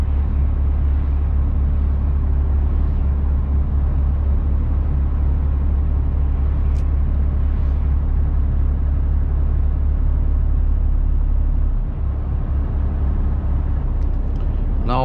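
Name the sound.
car driving on the road toward Stuttgart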